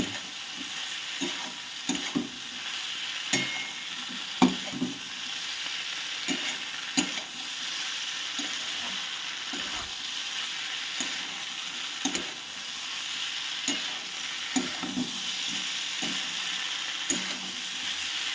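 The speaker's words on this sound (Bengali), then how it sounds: "এবার আমি আরও বেশ খানিক্ষণ মশলার সঙ্গে কষিয়ে নেবো" Okra, potato and shrimp stir-fried in a spice masala, giving a steady close sizzle with repeated scraping and stirring strokes of a spatula against the pan, alone without talk.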